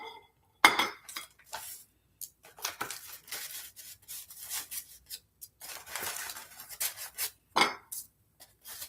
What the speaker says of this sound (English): let me get my bowl out now